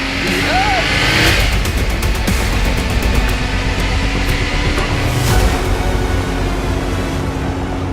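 An air-cooled Porsche 911 Carrera 2.7 RS engine revs loudly and close by, with a rising and falling blip early on over a sustained gruff, throaty drone.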